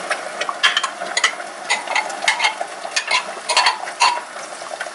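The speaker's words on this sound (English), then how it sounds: "Frying our onions." Onions and tomatoes sizzle and crackle in a hot pan, with repeated scraping and stirring taps of a utensil against the metal throughout; no speech.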